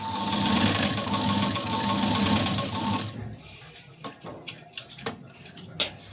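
Sewing machine stitching cord piping along a fabric edge, a steady fast whirring run for about three seconds, then a few short clicks and taps of handling the machine, close with no talking.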